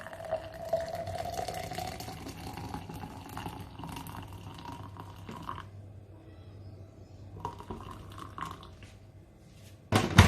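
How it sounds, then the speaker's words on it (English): Hot boiled water poured into a cup over a blended bitter kola mixture, a steady liquid stream running several seconds, a pause, then a brief louder splash near the end; no one talks. "pour it inside the cup and pour it some amount of hot boiled water"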